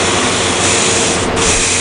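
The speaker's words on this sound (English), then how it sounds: "I'm using a black primer. And I'm trying just to spray down in the lettering." Black primer hisses from an airbrush gun onto plaque lettering, a loud, close, continuous spray with a brief dip near the end.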